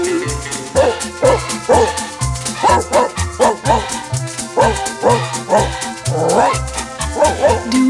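A dog barks in repeated rhythmic bursts inside a German pop song, the barks falling in time with the music alongside a singing voice.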